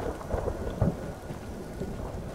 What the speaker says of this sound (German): Und es donnert so munter.